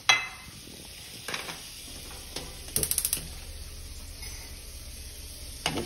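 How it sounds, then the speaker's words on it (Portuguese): Cheese is briefly fried in a pan for a home-cooked baião de dois, making a quiet sizzle with light stirring and several sharp clinks of utensils against cookware. "Agora, enquanto isso, eu já vou fritando."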